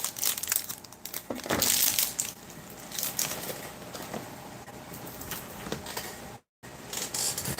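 Packaging from a Polish military shooters ration is torn and handled, with crinkling and crushing rustles in uneven bursts at close range and a brief dropout near the end.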